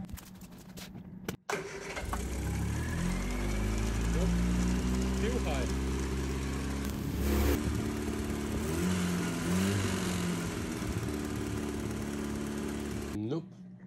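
A Triumph Spitfire 1500 engine starts and runs steadily at a high idle, a loud continuous drone that holds for over ten seconds before cutting off, with a person talking over it at times.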